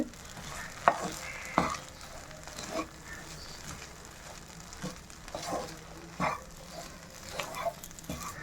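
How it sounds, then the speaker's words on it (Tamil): Soft, intermittent scraping of a utensil stirring fish in a nonstick pan, with occasional sharper taps over a low, steady sizzle. "எல்லா பக்கமும் கிண்டிவிட்டுட்டே இருங்க"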